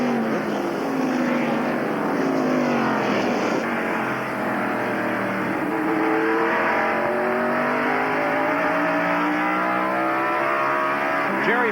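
Stock cars race at the 1993 Goody's 500, a continuous loud engine roar with pitches sweeping up and down as several cars pass in a close battle, without commentary.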